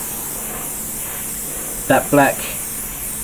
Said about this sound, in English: I'm going to apply a coat of this grey primer